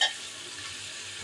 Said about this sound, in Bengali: তো এই মাংস কষাইতেছি